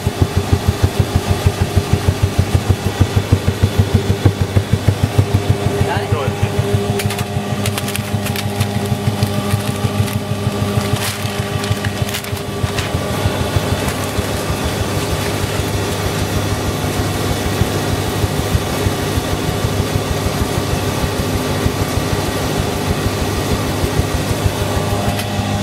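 An insulation blowing machine runs nonstop, its fan and bottom auger feeding loose insulation into a chute, giving a loud, steady mechanical drone with a rapid pulsing churn and no talking.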